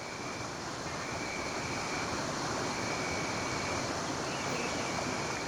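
A mountain river in Japan's Shiratani valley rushes through cascades and deep pools, a steady, dense roar of water filling the whole stretch without pause or voices.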